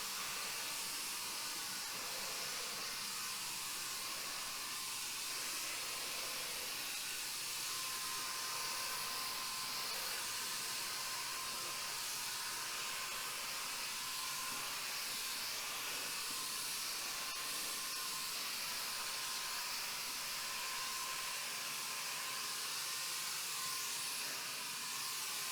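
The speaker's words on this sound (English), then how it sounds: "That's why I'm using 3 coats of paint instead of 2." A paint sprayer hisses steadily while applying thin coats, a continuous even spray with no breaks, fairly faint and heard alone.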